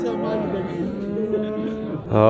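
Bulls low in the cattle rows of the Nookat livestock bazaar. A long, deep moo is followed by a louder one right at the end, over faint market background.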